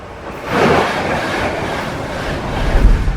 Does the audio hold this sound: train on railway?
yes